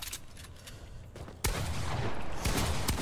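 Gunfire in the video game Fortnite: a sharp burst near 1.5 seconds, then a dense run of shots with further cracks around 2.5 and 2.9 seconds over constant game background noise, with no talking.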